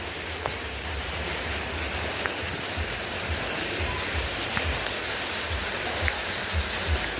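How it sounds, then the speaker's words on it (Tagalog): Steady rain falling outdoors in a garden, a dense continuous hiss with occasional soft drips and taps, fairly close and even in level, with no talking. "Ulan."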